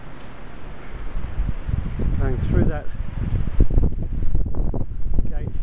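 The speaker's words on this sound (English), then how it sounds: "It's windy today." Gusty wind buffets the microphone in a steady low rumble, with a person speaking briefly partway through.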